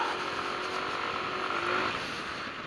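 A Yamaha Nmax scooter engine bored out from 125 to 180 cc drones steadily while riding, a dense, continuous buzzing hum with wind rush and no pauses.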